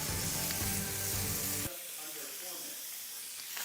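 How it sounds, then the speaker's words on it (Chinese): Shrimp for scampi sizzling loudly in a hot pan, a dense hissing fry that drops abruptly to a quieter, softer sizzle partway through, with no speech over it. "Shrimp are on, sauce is ready."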